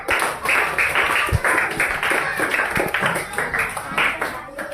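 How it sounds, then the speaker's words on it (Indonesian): A classroom group claps together in a burst of quick, uneven applause lasting a few seconds, moderately close, with a few voices mixed in. "Tepuk tangan."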